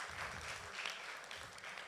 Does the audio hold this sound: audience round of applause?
yes